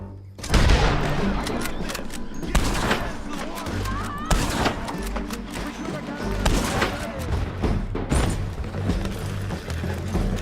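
Gunfire from Red Dead Redemption 2 at Beecher's Hope, a run of sharp shots and booming reports spread irregularly over several seconds, loud and dense amid game ambience and voices talking throughout.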